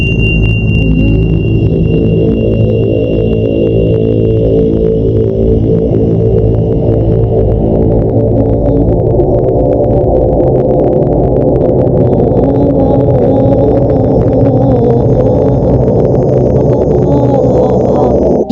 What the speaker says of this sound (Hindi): यह है कायनात की आवाज।